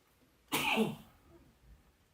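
A single sharp sneeze-like burst, loud and close, lasting about half a second in a council meeting before quiet returns.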